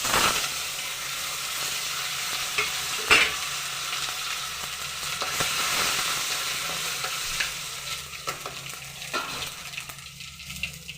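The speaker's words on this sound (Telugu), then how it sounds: "తాలింపు బాగా వేగిన తర్వాత" Tempering spices frying in hot oil while rice cooks, a steady broadband sizzle and hiss with the scrape and clatter of stirring throughout, close and continuous with no talk.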